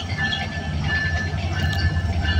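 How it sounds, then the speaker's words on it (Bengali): Madhumati Express rolling into Pachuria Junction station in the rain, a steady low rumble of wheels and carriages with a thin squeal, rain hiss around it. "বৃষ্টি মাথায় নিয়ে কিন্তু আমাদের মধুমতি এক্সপ্রেস ট্রেনটি কিন্তু পাচুরিয়া জংশন স্টেশনে প্রবেশ করলো"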